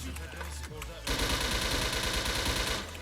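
Rapid automatic gunfire from the online shooter game Wolfteam bursts in loudly after a quieter opening second, with dense repeated shots that carry on steadily to the end.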